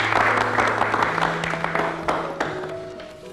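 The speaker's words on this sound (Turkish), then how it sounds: "Alkışlayın gelin damat." Applause for a bride and groom during a Turkish civil wedding ceremony, a steady crowd clapping throughout with a faint low hum and a few sharper claps standing out.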